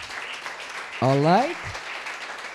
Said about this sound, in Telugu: గట్టిగా చప్పట్లు కొట్టండి మరొకసారి.